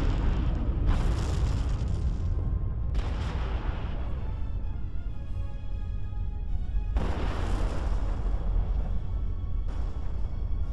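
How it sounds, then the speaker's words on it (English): Massive explosions as an enemy commander unit blows up in the strategy game Planetary Annihilation: deep rumbling booms hit in several waves over a constant low roar, loud and heavy. "Enemy commander explosion imminent."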